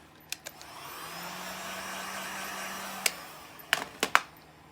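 A heat gun blows hot air onto vinyl wrap on a car's roof antenna fin: a soft, steady whooshing hum that starts after a second and cuts off near the three-second mark, followed by a few sharp clicks and taps.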